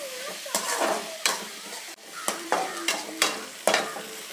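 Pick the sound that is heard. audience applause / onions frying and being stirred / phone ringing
onions frying and being stirred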